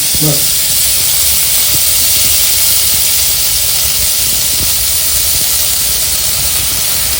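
Broccoli sizzles in butter in a pan, a loud, steady frying hiss that holds evenly throughout with only faint clicks and bumps beneath it.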